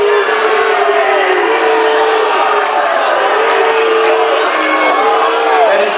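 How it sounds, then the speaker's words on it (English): A loud crowd roars and jeers in a high school varsity boys' basketball gym after a foul call, a sustained dense din with shouts and whistling tones throughout. "Now the crowd is rather apoplectic."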